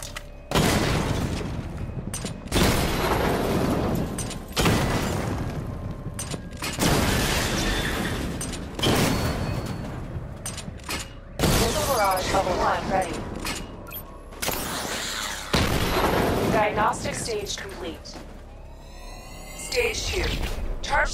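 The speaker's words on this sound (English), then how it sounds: "Destroy targets to charge up weapon energy and activate missile barrage" Missile barrage explosions destroying targets in Batman Arkham Knight, a sequence of loud booming blasts and shattering crashes repeating every couple of seconds, with a voice talking between and over them.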